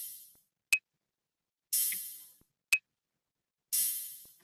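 A two-beat percussion loop built in Logic's Ultrabeat repeats twice, alternating a short bright metallic tick with a hissy hi-hat-like burst that fades out, crisp and isolated against silence.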